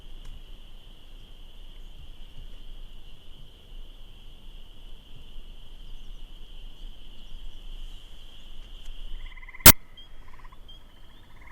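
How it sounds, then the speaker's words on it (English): Gray tree frogs trilling from high in trees beside a shrinking pond give a steady, fairly faint high-pitched trill that runs almost continuously, broken near the end by a sharp click and a few softer chirps. "One of the frogs that we can hear now is the gray tree frog."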